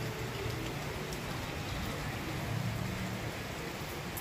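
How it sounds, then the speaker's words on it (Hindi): Steady broadband hiss of rain falling, constant and fairly close, with no voices over it. "देख सकते हैं गाइस बारिश आ रही है।"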